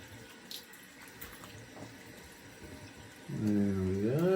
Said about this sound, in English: Rinse the face off.